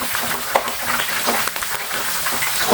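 Plantain slices fry in hot oil in a home frying pan for small-batch chips, giving a steady, dense sizzle and crackle with no talking.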